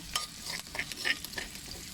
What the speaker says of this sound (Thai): ผัดให้หอมนะ ผัดให้หอม